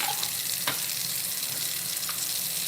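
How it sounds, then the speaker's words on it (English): Running lukewarm to cool water rinsing conditioner out of hair in a shower or over a bowl, a steady close hiss of flowing water with faint splashes. "we're going to rinse it out with some cool water"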